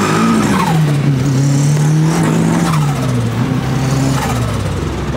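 A rear-wheel-drive Honda Civic engine roars loud and close on a dyno, its pitch sweeping up and down as the engine breaks up and stutters at high revs, with no talking.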